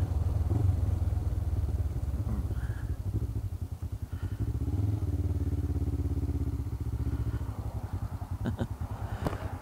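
A Honda CT110 motorcycle runs its small single-cylinder engine, which chugs steadily with a throaty pulse as the bike pulls away. Faint clatter and clicks come near the end.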